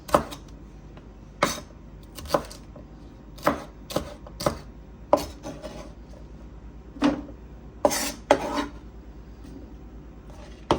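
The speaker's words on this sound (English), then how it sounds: "We're just doing some large chops." A knife chops cabbage into large pieces on a cutting board, about a dozen sharp, separate thuds at an irregular rhythm, close and clear against a quiet room.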